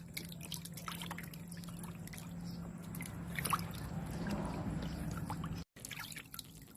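Water runs and drips as a sea bass is rinsed clean for a steamed lime fish dish, a soft, uneven trickle and splash with faint background hum, fairly quiet and close, briefly cutting out near the end.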